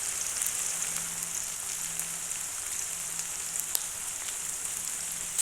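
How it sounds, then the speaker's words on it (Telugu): Prawns and tomatoes frying in oil give a steady, even sizzle and crackle throughout, fairly quiet and close, with no voices. "రొయ్యలు వేసాను, వీటిని కూడా బాగా ఆయిల్లో వేయించుకుంటాను"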